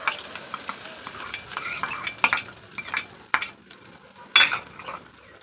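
Onion and coriander go into hot oil with mustard seeds for Gujarati poha. Light sizzling sits under scraping spatula strokes and several sharp metallic clanks against the pan, close up, with no talking.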